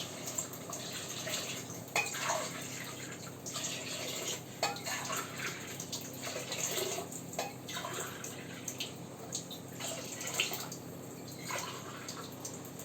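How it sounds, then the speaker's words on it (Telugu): Water pours steadily into a cooking pot, measured out for soaking rice to make chicken biryani at home. It is a continuous splashing, gurgling stream with small metallic clinks, at moderate loudness, close by, with no talk. "నాలుగున్నర వాటర్ పోసాను."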